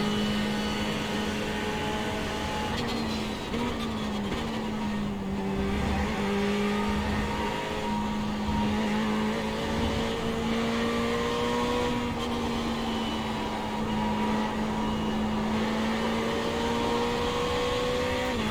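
A Ferrari race car's engine drones loudly at Watkins Glen in a racing video game, a steady high engine tone holding through a long straight with slight pitch rises and falls, continuous and close, with no talking.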